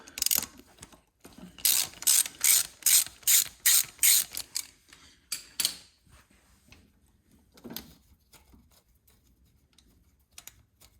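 Socket ratchet clicking in quick repeated bursts while loosening the 10 mm fuel filter bracket bolts on a Kubota BX23S tractor, loud and close with short pauses between runs of clicks, then fainter scattered taps.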